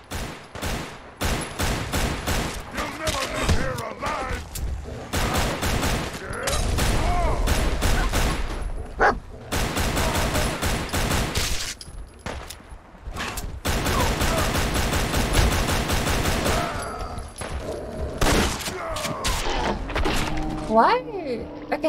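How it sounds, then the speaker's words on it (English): Gunfire in a Fallout-style video game aimed at a super mutant, repeated loud bursts of automatic fire and sharp impacts filling most of the stretch, with brief pauses between volleys. "I emptied 2 mags into a super mutant"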